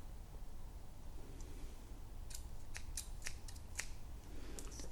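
Scissors snip through a sheet of paper in a quiet room during a children's craft workshop making snail shapes, with several short sharp cuts clustered in the latter half over faint background noise.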